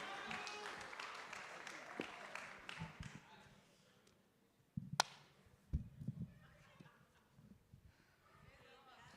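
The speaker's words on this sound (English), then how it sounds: "Piga makofi mpaka afike." Audience applause at the closing night of the Kenya International Theatre Festival, a dense burst of clapping that thins out midway, followed by a sharp clap, scattered knocks and some talking.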